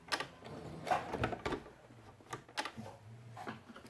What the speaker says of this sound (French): je vais venir coudre tranquillement cette petite pièce